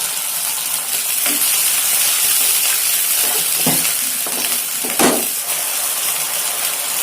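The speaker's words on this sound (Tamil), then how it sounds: "இஞ்சி பூண்டு பச்சை ஸ்மெல் போகிற வரைக்கும் வதக்கிக்கலாம்." Ginger garlic paste sizzles and fries with onions and a splash of water in a pan for a plain parotta salna, a steady loud hiss with a few clinks and scrapes of stirring.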